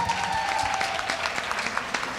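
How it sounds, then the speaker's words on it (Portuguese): Brief, moderately loud clapping from a church youth audience during a podcast recording, a dense, even patter of many hands with faint crowd noise underneath. "Vocês acertaram, palmas pra vocês."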